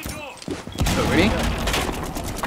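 Rapid gunfire from a rifle in the video game Rainbow Six Siege as a full magazine is emptied, a loud dense burst of shots running for most of the moment, with a player's voice talking over it.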